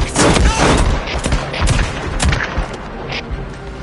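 Rapid bursts of gunfire in the video game Days Gone, loud and close, a dense volley of overlapping shots that gradually thins out.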